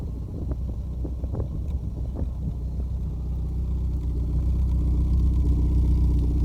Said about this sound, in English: Listen to how quiet this idle is.